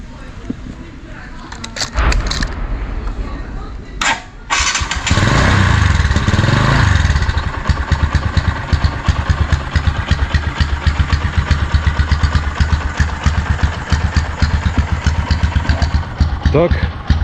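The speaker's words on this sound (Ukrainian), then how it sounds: "Заводиться мотоцикл причудово. Зараз, як бачите, він абсолютно холодний." A Bajaj Boxer motorcycle engine, started cold, cranks and sputters, then catches and settles into a loud, rapid, uneven idle close by.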